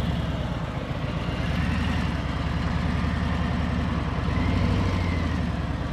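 A motorcycle engine running at low RPM during a slow lean exercise at rider training, a steady low rumbling idle-like throb that holds evenly throughout.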